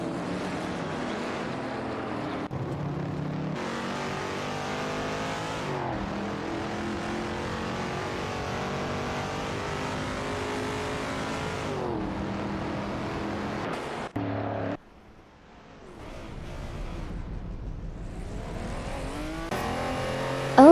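Race car engines in an AI-driven racing game with an Aston Martin Vantage among the field, a sustained droning roar with rising and falling revs and gear shifts, briefly dropping away before building again.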